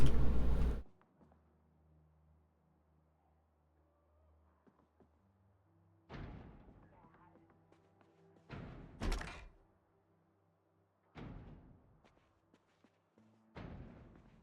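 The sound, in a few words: zombies banging on a door in a video game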